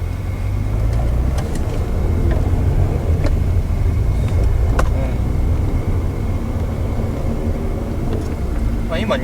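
Engine and road noise from a Mazda RX-7 Type RZ FD3S rotary sports car shifting up around 2000 rpm, a steady broadband roar from inside the car with faint talk beneath it.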